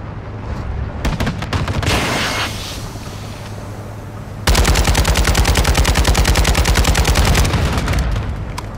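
An armored personnel carrier fires in the Call of Duty: Modern Warfare mission Borderline. Scattered shots and rumble come first, then a sustained, loud stream of rapid automatic fire hammers on steadily to the end.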